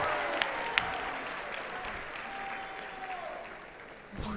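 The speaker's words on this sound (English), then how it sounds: "Let's give a huge round of applause for these" An audience at a children's musical tribute and institute inauguration applauds a guitar performance, a sustained crowd of clapping hands with a faint tone running beneath, fading near the end.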